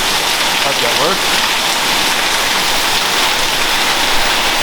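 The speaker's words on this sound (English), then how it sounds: "show you how well it rains here at times." Heavy rain falls steadily on surfaces around a house, a dense, loud, unbroken hiss and patter close by.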